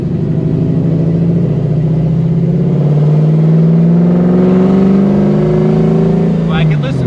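A 1969 Pontiac Firebird with a 750 Edelbrock four-barrel carburetor, raised Edelbrock intake and ram air exhaust manifolds revs up, its loud, close engine rising steadily in pitch before easing off near the end.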